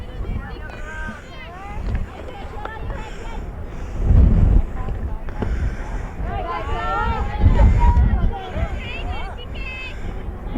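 Gusts of wind buffet the microphone in low rumbling bursts at a softball game, loudest around two heavy thumps, while a person talks over it.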